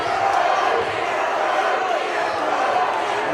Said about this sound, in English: Crowd getting behind Brody Falks here